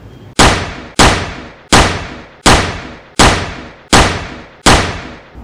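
Seven loud toy matchstick cap gun shots fired in a steady rhythm, roughly one every second, each a sharp crack with a short decaying tail.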